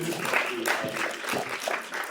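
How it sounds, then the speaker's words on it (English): Lecture audience applauding at the opening of a talk, a moderate spread of clapping from a seated crowd, with a voice speaking over it. "which I think deserves a round of applause"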